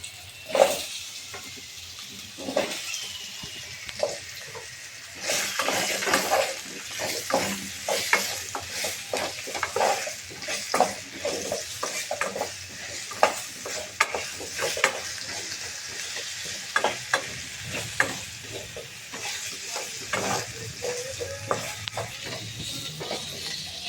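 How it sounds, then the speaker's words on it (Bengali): Potatoes frying in oil left over from frying katla fish, a continuous sizzle with frequent scraping and stirring of a spatula against the pan, occasional clinks of utensils, no talking. "এখন এই মাছ ভাজার তেলের মধ্যে আমি আলুগুলো ভেজে নেব।"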